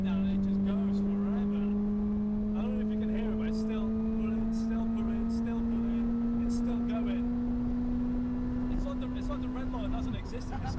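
A 350 bhp supercharged Honda Accord accelerates in one long pull, its engine and supercharger whine holding a steady rising drone heard from inside the car while someone talks over it.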